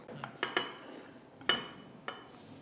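A utensil scrapes and clinks against a pan as grated paneer and green peas are mixed with the heat off, a few sharp metallic taps spaced out over quiet background.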